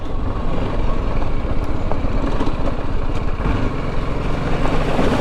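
A BMW G310GS motorcycle rides through a deep pothole, its engine a loud, steady low rumble close to the mic, with wind noise over it and no speech.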